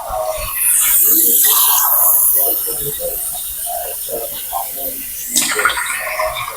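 Water pours from a measuring cup into a pot for red lentil soup, a loud close gush of about four cups with rushing and splashing, followed by a quieter stretch in which someone speaks.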